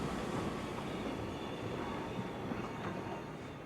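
A steam shunting engine works a railway yard in southern Europe, moving box vans: a faint, continuous rumble of rolling stock and machinery with no clear beats, heard alone.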